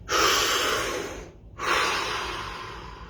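Deep breaths during a relaxation exercise: a long, loud inhale followed by a brief pause and a second sustained airy breath, very close.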